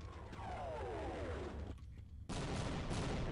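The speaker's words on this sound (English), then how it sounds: "What, are they just airstriking this place now?" Airstrike gunfire and explosions in Half-Life, a dense loud wash of shots and blasts with a descending whine, a brief drop-off, then a sudden heavy burst resuming.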